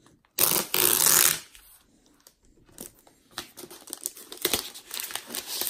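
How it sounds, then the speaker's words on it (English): Plastic wrap being pulled off an Apple Mac Mini 2018 in Space Grey, a loud close crinkling burst followed by softer intermittent rustles and crackles as the wrapping is handled. "let's go ahead and unwrap this Mac Mini"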